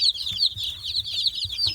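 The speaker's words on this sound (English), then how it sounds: "that loud chirping is a distressed chick" A distressed chick chirps loudly and repeatedly in high, piercing peeps among other poultry, with soft clucking and rustling underneath.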